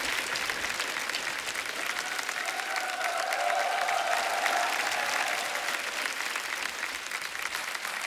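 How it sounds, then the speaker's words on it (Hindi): A studio audience at a Hindi television comedy talk show bursts into warm applause welcoming a guest. The clapping is full, dense and steady for the whole stretch, with no talk over it. "जोरदार तालियां हो जाएगा"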